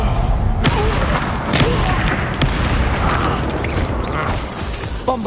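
Descendo spell in Hogwarts Legacy amid combat with goblins: heavy booming impacts and mechanical creaks, with several sharp cracks over a dense rumbling bed, loud and close.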